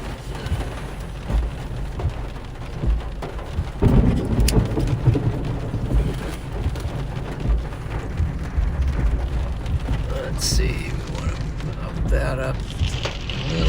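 Thunderstorm with steady rain in Nebraska, heavy downpour hissing throughout with low rumbles of thunder swelling midway, captured outdoors during a storm chase; a voice speaks faintly at times under the rain.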